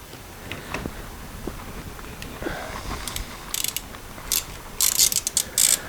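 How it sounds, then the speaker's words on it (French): A ratchet tool with a Torx 27 bit unscrewing the gear lever nut on a Harley-Davidson Pan America 1250 Special motorcycle, faint at first, then sharp clicking bursts that grow louder near the end, with no speech. "tu vas devoir venir dévisser son écrou ici avec ton torque numéro 27"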